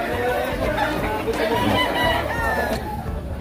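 Chickens and roosters crowd a poultry sale, with loud close crowing and clucking layered over a busy background of people chattering.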